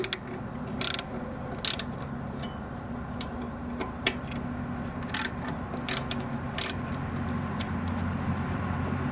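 A bolt being loosened with a ratchet on a Husqvarna LGT2554 lawn tractor, several short sharp clicking bursts separated by pauses over a steady low background hum, with no talk.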